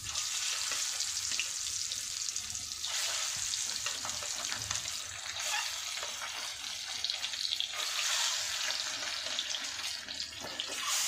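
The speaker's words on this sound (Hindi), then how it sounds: "अब इसे मैं फ्राई कर रही हूँ।" Eggs rubbed with chili and turmeric powder fry in hot oil for a cabbage egg curry, giving a steady, close crackling sizzle that holds at an even level the whole time with no voices.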